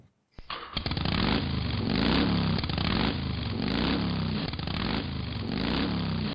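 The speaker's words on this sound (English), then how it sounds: "This is the very distinct sound of a Harley-Davidson motorbike." A big Harley-Davidson V-twin motorcycle engine fires up and settles into a loud, lumpy idle with a steady rhythmic throb and some mechanical clatter.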